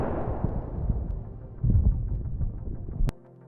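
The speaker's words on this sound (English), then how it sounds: "a massive blast occurs, destroying a Russian ammunition depot" Deep rumbling blast from an FPV drone strike on a Russian ammunition depot, a sustained low roar with a second surge midway before cutting off abruptly.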